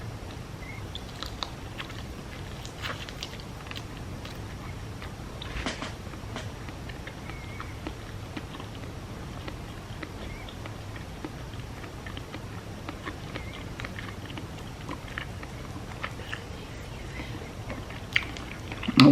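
Taco Bell crispy chicken wings are bitten and chewed up close, a soft continuous run of faint crunches and wet mastication noises throughout with no talking.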